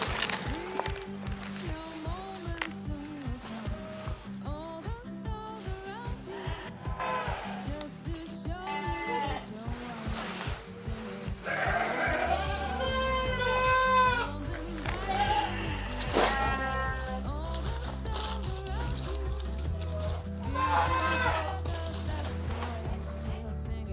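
Sheep bleat repeatedly at a sheep farm, their wavering cries rising over a steady rhythmic mechanical thumping and hum, with overlapping calls from several animals at close to moderate distance.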